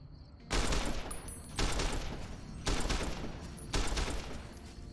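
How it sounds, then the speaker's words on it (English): Gunfire in Fallout: New Vegas crackles out in four loud, evenly spaced volleys about a second apart, each a dense burst of shots fading briefly before the next. "That was a whole lot of shooting it did."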